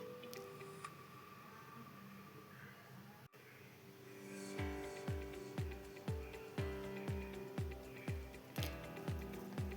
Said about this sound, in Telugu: ఈ ఆనియన్స్ ఫ్రై అయ్యే వరకు కాసేపు అలాగే కలుపుతూ ఉండాలి.